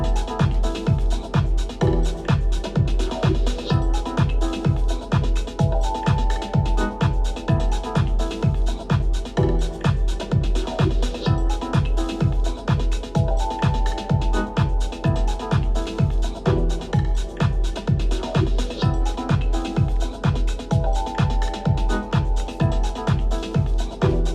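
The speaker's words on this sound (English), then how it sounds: "Sounds quite nice with a bit of delay." A steady, repeating drum loop with a punchy kick, playing alone at an even tempo; the hits smear into soft echoing repeats.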